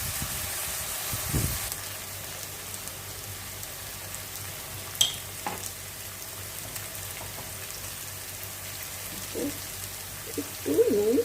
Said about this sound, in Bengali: একটু লাল লাল করে ভাজবো, সেদ্ধ করা আলু কিন্তু এটা। ঠিক আছে, আমি ভাজি এখন